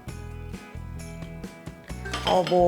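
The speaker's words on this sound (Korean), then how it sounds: "달걀 풀 때는 이렇게 돌리는 것보다는 앞뒤로 쳐내는 게 훨씬 빨리 풀려요" Eggs beaten briskly in a bowl with a utensil, mixed with minced garlic, salt and pepper: rapid, regular clinking and tapping strikes against the bowl, close and fairly loud, with a tonal ringing from the dish.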